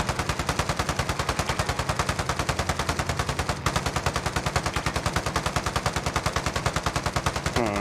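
Rapid automatic gunfire from an aircraft in an online plane combat game rattles on as a loud, relentless stream of evenly spaced shots, close and continuous.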